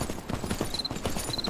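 Horses clip-clopping in the video game Myth of Empires, a steady run of hoof beats at close range that blends into a busy game soundscape, with a faint high ringing tone heard twice.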